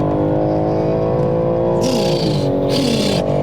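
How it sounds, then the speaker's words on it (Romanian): A 510 hp BMW M3 or M4 engine revs hard and loud with a metallic, harmonic-rich tone, its pitch sweeping up and down between sharp bursts, heard alone without talk. "E un sunet metalic din ăla extrem de pronunțat, care vine de aici, din motor."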